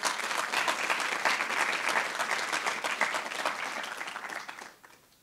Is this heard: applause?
yes